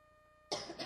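A person coughs close and loud, a burst of harsh coughs breaking in after a quiet stretch, at a community services commission meeting.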